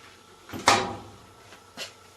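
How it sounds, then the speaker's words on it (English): A Performa dryer door clunks open with a soft latch release and thud, followed by a lighter knock a second later; nearby, no talking. "With the dryer connected to the wall outlet, open the door on the dryer."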